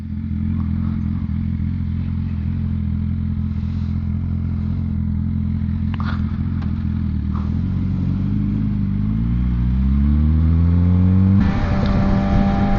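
A BMW S1000RR sport motorcycle engine drones loudly while riding, then revs upward through rising pitch before a sharp higher-revving surge near the end, with wind rush throughout.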